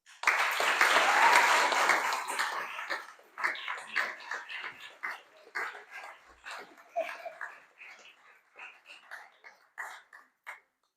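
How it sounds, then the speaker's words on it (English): Applause from a school audience at a prize-giving and Year 6 farewell, a loud burst of clapping that peaks early then thins into scattered, tapering claps over several seconds. "Please give another round of applause for Mrs."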